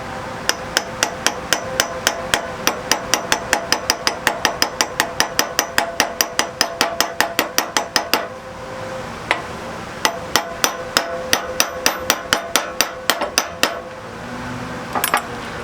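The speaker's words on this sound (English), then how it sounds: "so I'm going to put the seal in, get a socket to push it in." Rapid metallic hammer blows on a socket drive a hydraulic pump seal into a TCM forklift pump, dozens of sharp ringing strikes in a steady rhythm, then a short pause and another quicker burst.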